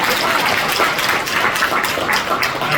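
Audience at a Dolton board meeting applauding commissioners, a dense steady round of clapping from a room full of people, loud and close.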